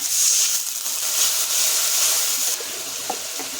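Water pours into a cooking pan of ground turmeric, coriander and cumin. The pour is a steady, close hissing gush that eases slightly near the end.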